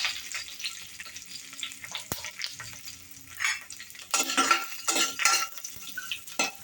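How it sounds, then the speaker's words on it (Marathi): Garlic sautéing in hot ghee with asafoetida, mustard seeds and curry leaves for a kokum kadhi tempering: a steady close sizzle with scraping stir strokes, swelling into louder crackling bursts toward the end. "लसूण एकदम काळे नाही करायचे, थोडीशी परतून घ्यायचे फक्त"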